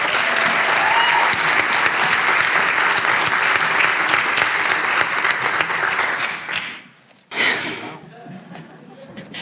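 Loud, sustained audience applause at a county Democratic debate, a full room clapping steadily before dropping off briefly, then a short swell of clapping and voices returns.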